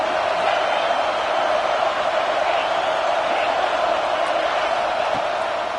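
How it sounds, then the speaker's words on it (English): A college football stadium crowd roars as a steady, dense wall of noise that holds unbroken throughout, with no single voice standing out. "This crowd ready to make its presence known."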